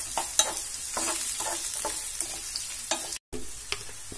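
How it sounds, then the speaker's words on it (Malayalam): Chopped onion sautéing in a pan for okra (bhindi) masala, with a steady close sizzle and repeated scrapes and stirs of a spoon, one short dropout near the end; no talking. "ഇനി ഇതിലേക്ക് സവോള അരിഞ്ഞത് ചേർക്കുക. ഇത് ചേർത്ത് വഴറ്റുക."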